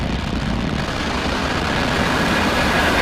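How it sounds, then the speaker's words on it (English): A SpaceX Falcon 9 rocket ignites its engines for liftoff on the NROL 95 mission, producing a loud, dense, continuous roar that holds steady without a break for the whole three seconds. "1. Ignition."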